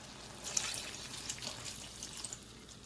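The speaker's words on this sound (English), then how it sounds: "So now guys, I'm gonna add some water to it." Water pours and trickles into a pot of Jamaican-style steamed fish on the stove, a soft, faint splashing with a few small drips, no voices.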